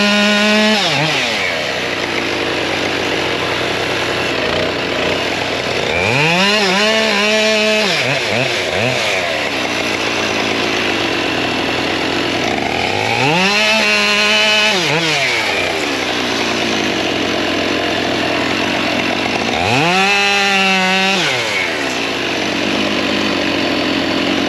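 A chainsaw works through logs in a firewood yard. It revs loudly and close up, bogging into repeated cuts with rising and falling engine pitch about every seven seconds, and no one speaks.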